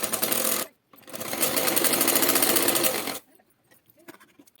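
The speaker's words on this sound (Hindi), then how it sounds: "उसी तरह से हम इस पे दूसरी भी सिलाई लगा लेंगे" Two bursts of a sewing machine stitching a second seam on a blouse belt, a short run then a longer steady one, followed by quiet handling clicks and rustles.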